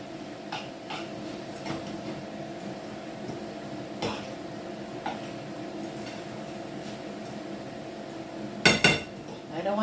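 A fork knocks and clinks against a pot while mashing ackee for ackee and saltfish, giving scattered light taps over a low steady hum, with a short cluster of sharper metallic clatters near the end.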